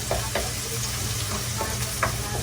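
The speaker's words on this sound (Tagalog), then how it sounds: "Kulay pula na sibuyas. Ipa-brown lang natin kunti" Red onions frying for adobo, a steady pan sizzle with occasional stirring scrapes, close and fairly loud, with no talking.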